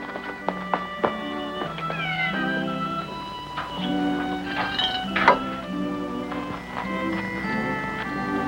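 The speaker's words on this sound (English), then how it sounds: "Petting a mangy old stray cat." A mangy old stray cat meows repeatedly at close range, a string of plaintive, wavering cries with small taps and shuffles in between and no talking.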